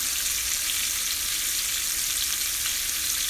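Pork loin searing in a pot, a loud, steady sizzle and hiss of frying fat that runs unbroken and close, with no talking.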